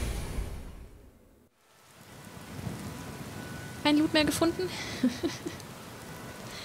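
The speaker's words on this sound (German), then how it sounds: "Ich glaube, es regnet immer noch." Steady rain falls in the video game Skyrim Special Edition, a continuous hiss that dips briefly and then returns, with someone speaking German over the downpour near the end.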